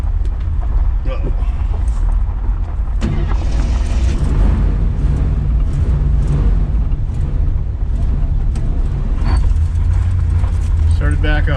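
Engine of a 1967 Rambler Rebel SST, left abandoned in a farmyard for 40 years, running steadily after restarting, with a loud continuous low rumble and scattered clunks and rattles throughout.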